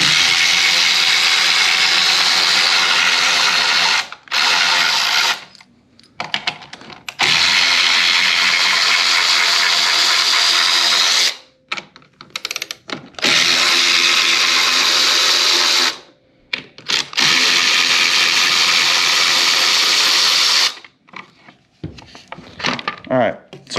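A power tool drives out screws on a KOMOTO X1500 electric snow scooter, whirring loudly in several long runs with short pauses between them.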